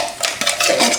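Coconut milk mixture stirred in a pot for a lentil and spinach dhal, giving a short run of close clinks and scrapes of a utensil against the pot, with no voices.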